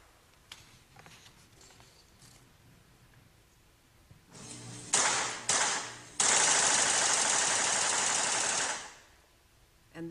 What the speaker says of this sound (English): You see this bump fire slide working as it mimics a fully automatic weapon.